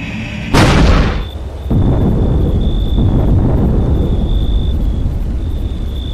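A heavy cannon blast from the Iraq war video game Conflict Desert Storm 2: Back To Baghdad, one loud boom followed by a long rumbling roar and a steady high whine, with no voices.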